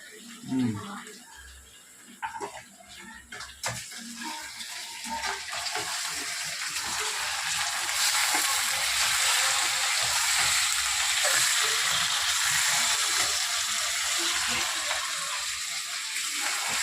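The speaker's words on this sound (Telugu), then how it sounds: "ఉల్లిపాయ వేగిపోయింది చికెన్ వేసేస్తాను" Chicken goes into a pan of fried onions, starting with clatter and scraping, then settling into a loud, continuous sizzle of frying that holds steady to the end.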